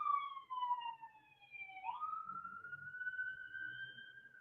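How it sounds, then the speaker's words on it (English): A siren passes by outdoors, its wailing tone gliding down and then rising again in a steady sweep over a few seconds, moderately loud above a low background rumble. "as the siren goes by"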